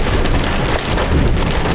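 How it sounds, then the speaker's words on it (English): Heavy rain pouring at a gravel-embankment campsite, a loud, dense, continuous roar of drops close by with a low rumbling undertone, steady throughout. "It's raining."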